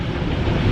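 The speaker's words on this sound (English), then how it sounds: "let's take it through the car wash" Car going through an automatic car wash, a dense, steady roar of spraying water and rumbling machinery, loud and close, filling the short moment with no voices.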